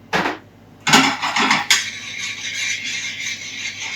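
Chopped garlic dropped into a hot frying pan, a burst of loud sizzling that settles into a steady crackling fry, with a few metallic knocks at the start and no talking.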